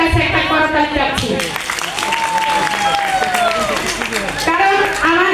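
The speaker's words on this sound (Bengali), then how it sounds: "আমি আমার হাজবেন্ডের জন্য আপনাদের প্রত্যেকের কাছে একটা করতালি চাচ্ছি।" An audience breaks into steady applause, a dense clapping crowd with a few cheers, while voices talk over it.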